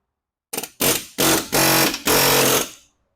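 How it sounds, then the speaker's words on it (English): An air hammer working to break loose a lower ball joint on a 2014 Chevy Silverado 4x4, fired in four or five loud, close bursts of rapid hammering, each lasting a fraction of a second to about half a second, with brief pauses between. "Okay, air hammer time"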